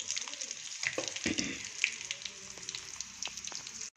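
Okra frying in hot oil in a pan, a steady bright sizzle with scattered pops and crackles, close and moderately loud, with no talk.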